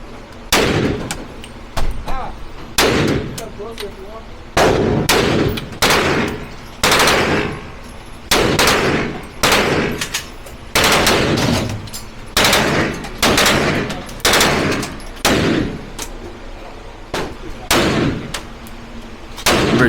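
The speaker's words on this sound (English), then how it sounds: "The first gun is an M1 carbine. It's a 30 caliber." M1 carbine, a .30 caliber military rifle made 1942–1973, fired outdoors at a range: a steady series of sharp, loud single shots roughly every second, each with a short echoing tail, with no talk.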